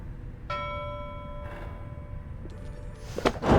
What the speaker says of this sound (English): Nautical bell among the Black Wagon's seafaring equipment.